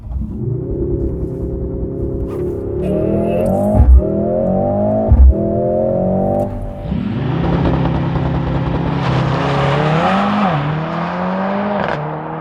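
A 2025 Mercedes-AMG GLC63s four-cylinder engine idles and revs in sharp bursts, then launches into a loud, rising acceleration with gear changes, close by.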